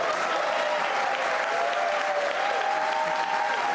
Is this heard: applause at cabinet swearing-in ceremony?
yes